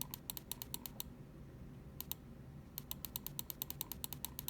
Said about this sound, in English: That's left click right there.